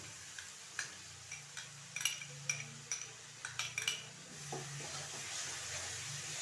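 Fried onion and ginger-garlic paste are stirred in a pan with a metal spoon, giving a regular series of clinks and scrapes against the pan over a low sizzle.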